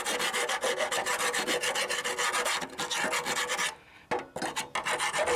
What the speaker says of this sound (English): I think I'm going to just try and file it. Get back in there with this file.